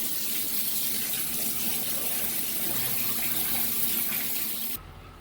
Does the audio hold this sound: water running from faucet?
yes